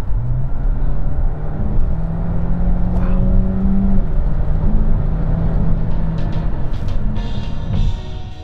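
An Opel Grandland X Hybrid4 plug-in hybrid SUV, 300 hp with all-wheel drive, rises steadily in pitch as it accelerates, heard from inside with constant road rumble and whir.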